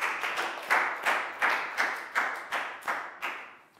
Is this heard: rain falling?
no